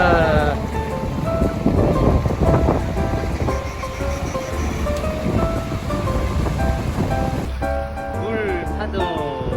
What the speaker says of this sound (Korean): 물 파도.